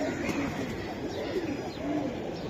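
Silver Giribaz pigeons coo softly and repeatedly at a pigeon sale, low rolling calls over a noisy background with faint voices nearby.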